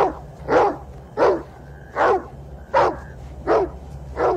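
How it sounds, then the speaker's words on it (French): A Mongolian shepherd dog barks six times in a steady, evenly spaced series, loud and close, with nothing else around it. "Voilà encore une des facultés prodigieuses du chien. Pour communiquer avec nous, il s'est mis à aboyer."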